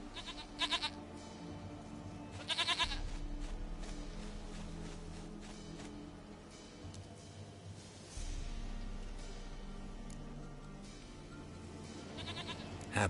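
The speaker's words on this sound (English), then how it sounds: "Goat of mine, dearest, sweetest goat." Goat bleating in a video game, a few loud wavering bleats at intervals over steady ambient game sound.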